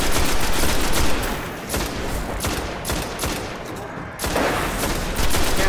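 Rapid bursts of gunfire from the Destiny video game on Xbox One, loud and continuous with dense repeated shots throughout, briefly easing near the middle before picking up again.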